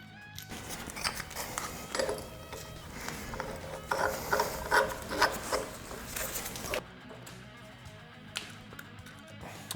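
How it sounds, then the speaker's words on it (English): A hand ratchet wrench clicks steadily on a Ford XW engine, rapid repeated pawl clicks close by, then a sudden stop into a quieter background with a few stray clicks. "I'm just going to use a ratchet."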